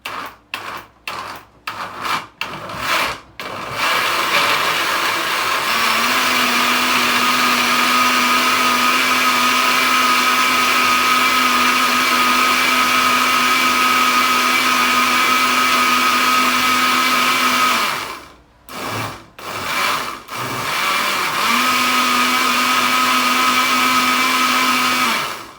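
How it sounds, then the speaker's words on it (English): Stick blender whirring through curry base gravy for British Indian restaurant cooking: a few clattering bursts, then a long steady loud drone, a brief stop and another sustained run, close up with no talk. "That's if you use this, you know, if you've got a stick blender."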